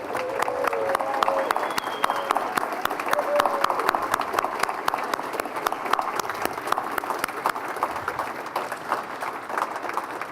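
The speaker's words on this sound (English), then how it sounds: "Everybody, let's give Ruth a big round of applause." Audience applause for Ruth O'Connell at a political gathering, steady dense clapping throughout with scattered cheers, close and loud without pause for the whole stretch.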